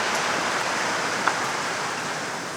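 Rain falls outdoors as a dense, even hiss of steady drops, close and continuous for a few seconds with no voices.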